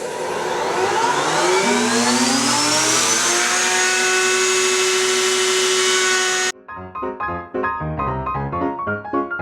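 A router or similar power tool whines steadily at high pitch while chamfering the edge of a sanded wooden checker board, then cuts off abruptly and gives way to a quieter, uneven clattering.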